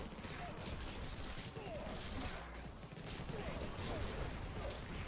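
Rapid gunfire in the top-down shooter Infested Planet, a dense, continuous crackle of shots and impacts filling the whole stretch at steady loudness.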